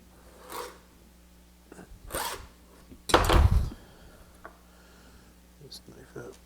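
A knife shaving wood for a tissue box cover: a few separate rasping strokes, the third longest and loudest, close by against a quiet workshop background.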